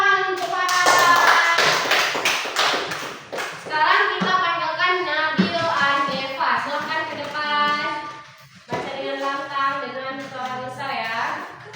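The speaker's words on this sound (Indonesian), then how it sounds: "Tepuk tangan untuk Farah" Children in a primary classroom clap for a classmate named Farah, a brief burst of applause at the start followed by young voices chanting and talking together.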